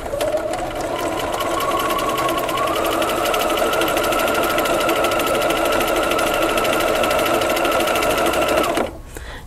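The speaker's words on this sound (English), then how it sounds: "And I am going to sew, ensuring that the slits match up." Sewing machine stitching quilt pieces cut with a diamond template, running fast and steady at close range for about nine seconds, then stopping abruptly.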